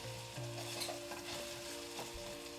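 A spoon scrapes and stirs rice in a sizzling pan, close and quiet, with a faint steady hum behind it.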